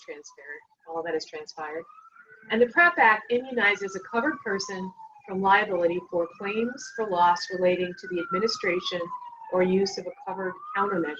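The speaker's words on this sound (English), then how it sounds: "I apologize for the sirens in the background." A wailing siren rises and falls steadily in the background of a downtown street while someone speaks continuously over it.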